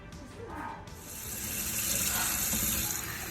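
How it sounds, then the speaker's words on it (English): Tap water runs steadily into a kitchen sink as rice is washed, a loud, constant rushing stream with a slight change in tone partway through. "you want to make sure you always wash your rice"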